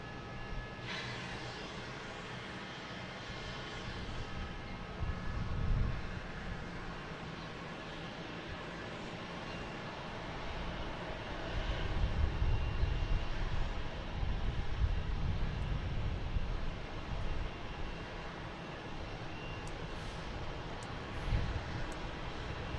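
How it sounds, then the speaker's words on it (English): United Airlines Boeing 737 MAX 9 arriving at Boston Logan from Los Angeles: a moderate, continuous jet rumble at a distance that swells and fades gently, with no talking. "next coming is United Airlines from LAX at 737 MAX 9"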